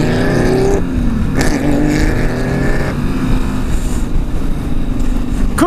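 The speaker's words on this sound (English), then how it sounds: "what the hell is that car?" A car passes by on a test track, a loud, continuous engine roar with shifting pitch that fills the whole stretch.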